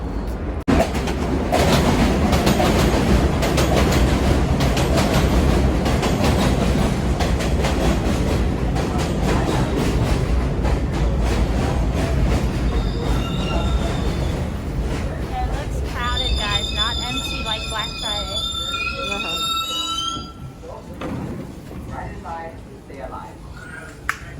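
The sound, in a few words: subway train riding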